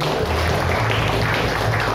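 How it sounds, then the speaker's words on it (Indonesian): A church congregation applauding, a steady dense wash of clapping from many hands filling the room, loud and close throughout. "tepuk tangan buat Tuhan kita"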